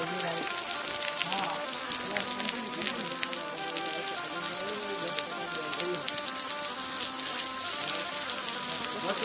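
Artificial rain pours down steadily on a song shoot set, a dense continuous patter of drops landing on surfaces at moderate volume, with no break across the whole stretch.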